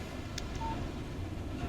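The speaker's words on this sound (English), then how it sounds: "Text message from Barry" A brief phone text-message alert from the Alan Wake video game: a short tonal chime near the start, then a faint held beep, over a steady low game ambience with no talk.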